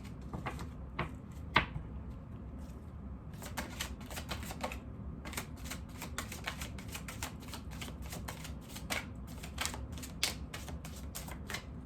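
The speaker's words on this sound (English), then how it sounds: "I'll try one more shuffle." Rapid papery riffling of a deck of cards being shuffled, dense clicking bursts that pause briefly then continue, close and fairly quiet.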